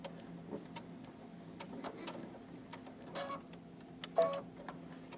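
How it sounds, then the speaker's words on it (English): Quiet sewing machine making three or four stitches at the top edge of fabric with a narrow hemmer foot, a few soft ticking mechanical pulses at close range. "sew about 3 or 4 stitches at the top of our fabric"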